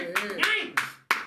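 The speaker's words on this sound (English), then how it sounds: "Can we have a round of applause for Memzee starting his own record label?" A few scattered hand claps on a podcast greet news of a guest starting his own record label, sharp and close, with a voice talking between and under them.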